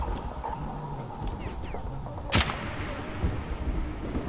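Gunfire in the Metro 2033 shooter game: a single sharp, loud shot cracks out midway over a dull, rumbling background, with faint thuds before it.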